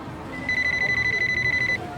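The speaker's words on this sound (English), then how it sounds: "Sorry, alarm." A phone alarm ringtone beeps in a rapid, even pulse of high electronic tones for about a second, loud and clear over a quiet room.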